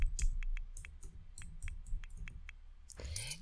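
Quick, soft keyboard clicks from typing a cheat code in The Sims 4 on a computer, a steady patter of keystrokes, close and quiet.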